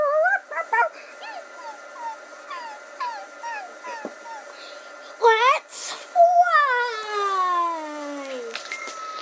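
Repeated high-pitched whimpers and yips from a puppy in the video game Toca Life, short and whiny, followed by a longer drawn-out whine, with some speech-like sounds mixed in.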